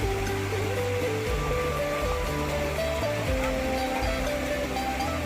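Rushing river rapids at Riam Ensiling in Sanggau, West Kalimantan, a steady, dense roar of flowing water that stays loud and unbroken throughout, with no talk over it.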